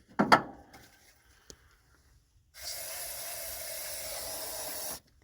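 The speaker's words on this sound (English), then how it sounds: "that's just carburetor cleaner, not starting fluid" Carburetor cleaner sprayed into the carburetor of a 1977 Ford LTD Landau: a brief sharp hiss, then a steady loud spray hiss lasting about two and a half seconds before cutting off.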